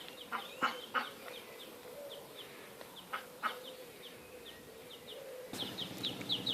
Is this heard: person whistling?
no